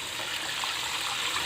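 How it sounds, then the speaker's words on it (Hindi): A continuous gush of water poured into a pot of marinated beef, steady and close, with no talking. "और साथ इसमें पानी शामिल कर देंगे"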